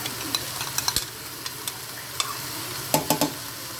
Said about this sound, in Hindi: एक प्याली दही है मेरे पास, इसको मैं खूब अच्छी तरह से फेंट के